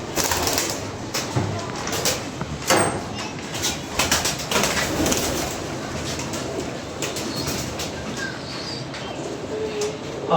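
Pigeons in an outdoor setting coo softly and intermittently against steady broadband background noise, with occasional sharp clicks and knocks and no clear talk.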